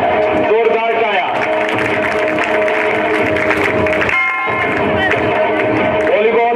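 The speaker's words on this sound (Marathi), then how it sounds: "जोरदार टाळ्या." Loud, steady clapping from a crowd at a school prize ceremony, a continuous dense wash of applause with voices and background sound mixed in.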